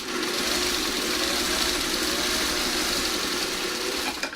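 A domestic sewing machine stitches a hexagon-flower quilt seam, running at a steady, rapid mechanical whir with a continuous rhythmic needle clatter, close and alone, stopping abruptly at the end.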